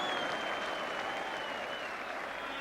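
An enormous crowd applauds steadily at the 1985 John Player Cup rugby final between Bath and London Welsh, a dense, continuous roar of clapping heard at a distance without a break.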